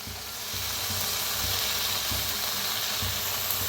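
Amaranth greens added to dal roasting in a hot pan sizzle loudly and continuously up close, with a steady hiss and soft repeated thumps of stirring underneath.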